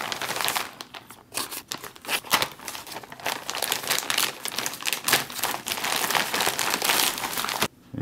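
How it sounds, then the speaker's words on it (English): Scissors cut through the plastic pouch of an MRE accessory pack, a Kosher for Passover religious meal, with steady crinkling and tearing of packaging throughout, close and fairly loud. "So we'll go ahead and cut this one open."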